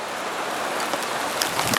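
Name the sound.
rain starting to fall on a rice field farm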